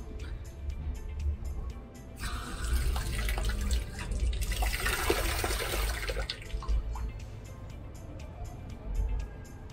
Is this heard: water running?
yes